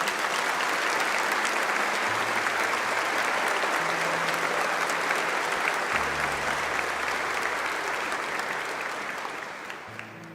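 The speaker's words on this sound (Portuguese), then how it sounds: "Vamos aplaudir esse mistério." A church congregation at a Divine Mercy Mass applauds, sustained broad clapping from many people filling the room, with a low organ note shifting underneath before the clapping tapers off.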